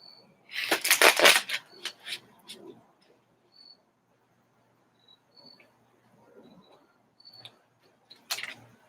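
Quick papery riffles of tarot cards being shuffled, loudest at the start, followed by quieter taps and a final brief shuffle.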